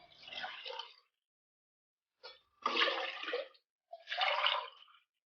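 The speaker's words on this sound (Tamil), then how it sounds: "நம்ம 4 மடங்கு தண்ணி ஊற்றிக்கலாம்." Water poured into a pressure cooker holding rice and lentils, three separate splashing pours with short pauses between them, close and fairly loud, no talking.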